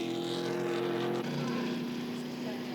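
A Trans Am race car from the 2021 Trico Trans Am Series passes on track at Symmons Plains Raceway, its engine droning loudly and dropping in pitch as it goes by, under a commentator's voice.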